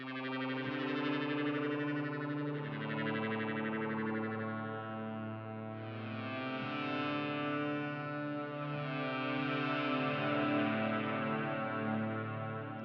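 A Lunaris 2 synth guitar preset plays sustained, shimmering chords with a delay effect, tones overlapping and swelling in slow waves for several seconds, bright and layered, with no voice present.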